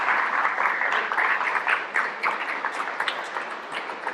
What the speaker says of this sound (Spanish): les pido un fuerte aplauso para Fray Javier Armenta